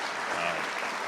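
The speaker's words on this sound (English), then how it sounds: "give them a round of applause" Brief applause from an audience at a public announcement by a lieutenant governor at the Clemens Center in Elmira, a steady crowd clapping at moderate volume.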